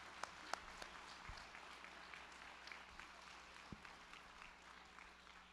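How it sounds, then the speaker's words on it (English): Crowd applause at a charity fundraising event, a soft, steady patter of many hands heard from a distance, with a few sharper individual claps and thumps standing out over about five seconds. "Let's give the entire crowd a big round of applause for this wonderful giving moment."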